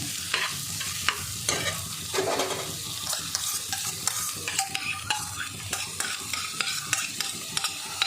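Chopped garlic frying in melted butter for buttery garlic potatoes, a lively close sizzle with frequent spoon scrapes and taps against the pan throughout.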